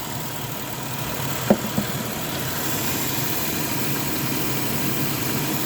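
A 2006 Buick 3.8 liter engine idles after a coolant refill, a low, even hum that runs steadily, with a couple of faint clicks early on.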